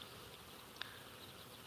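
Wild honey bees buzz at a disturbed hive, a faint steady hum with one brief sharper buzz as a bee passes close.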